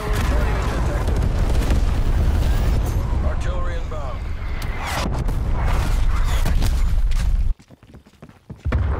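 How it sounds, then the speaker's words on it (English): Semtex grenade explosion in Black Ops Cold War, a loud sustained booming blast with rumbling debris that cuts off abruptly into near silence near the end, followed by a few faint thuds. "Hostile Semtex inbound."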